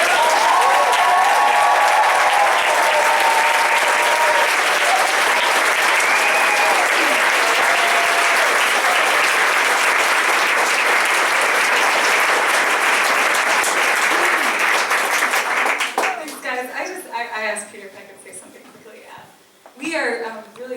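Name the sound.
audience applause for Sarah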